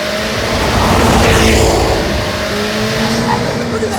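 A 2025 Corvette ZR1 with 1,000 horsepower accelerating hard, its engine a loud continuous roar with rising tones heard from inside the car, no pauses.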